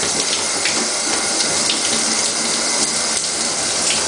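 Shower water runs in a steady, loud, continuous hiss and spatter with no break and no voices over it.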